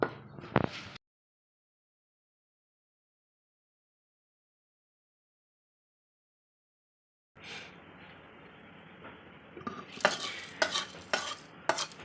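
Spices for tempering sizzle in hot oil while a spoon stirs and scrapes for Andhra-style gongura chutney. The crackling comes in a short burst, then a long silence, then returns as a steady fry with sharp clinks of utensils.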